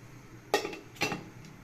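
Metal lid set onto a cooking pot of fish soup: two quiet clanking contacts about half a second apart, with faint kitchen background and no talk.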